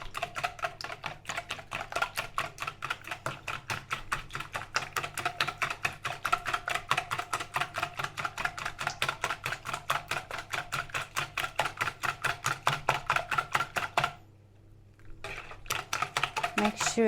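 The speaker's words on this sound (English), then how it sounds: "the eggs and the vanilla, we're going to just whisk it lightly" Eggs and vanilla being whisked lightly in a bowl, a fast steady rhythm of close clicking strokes that pauses briefly before starting again; no talk.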